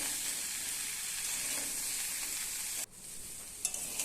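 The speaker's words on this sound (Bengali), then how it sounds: "সবটা দিয়ে দিলাম এবার ভেজে নেব কিছুক্ষণ" Continuous bright sizzle of young jackfruit and potato frying in a wok, close and steady, then a sudden drop in level followed by a soft clink.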